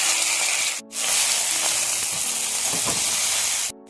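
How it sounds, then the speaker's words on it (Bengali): Chow mein noodles with fried egg sizzle loudly in a hot pan, a dense, steady hiss broken by a brief pause and faint stirring scrapes. "এবার এর ভিতরে দিয়ে নিচ্ছি আমি চাউমিনগুলো। তো চাউমিনগুলো এবার ভেজে নিতে হবে ভালোভাবে।"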